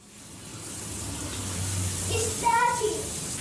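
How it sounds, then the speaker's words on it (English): Steady broadband rush of water running from a tap, with a few brief voice-like tones near the end. "Open the water tap"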